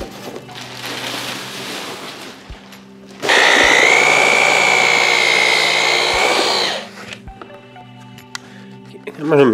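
Drill mixer churns drywall texture compound for a hand brocade wall, a loud steady whirring burst of about three seconds standing out between quieter stretches with low hum and light handling noises.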